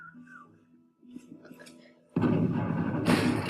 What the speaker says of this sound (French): Utilisons le canon fixe pour détruire les bâtiments ennemis voisins.